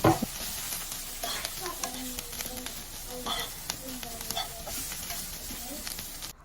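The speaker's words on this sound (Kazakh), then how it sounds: "Пиязымыз қызарғаннан кейін үстіне ұсақтап тұрған сәбізімізді бір 10 минуттай қуыратын боламыз" Chopped onion and carrot fry in a pan with a steady soft sizzle, while a spoon scrapes and stirs in occasional clinks, fairly quiet and close.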